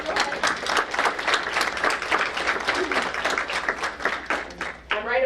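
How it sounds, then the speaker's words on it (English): Audience clapping at a school board meeting, a steady dense patter of many hands filling the room for several seconds before tapering off, with a voice rising at the end. "I heard some clapping."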